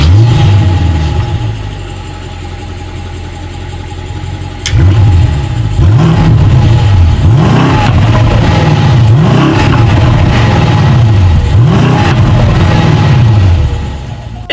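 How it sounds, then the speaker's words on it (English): A 2018 BMW M550i xDrive with sport exhaust and black chrome tips idles low, then after a sharp start-up bark delivers a series of loud, repeated throttle blips that rise and fall in a steady rhythm, heard close and alone. "Here is that exhaust clip."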